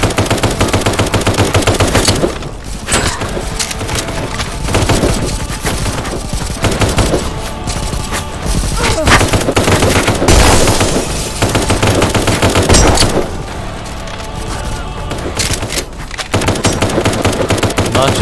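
Type 89 rifle gunfire in the video game Kinki Reimukyoku, loud and dense bursts of rapid automatic shots with brief gaps between volleys, filling most of the stretch.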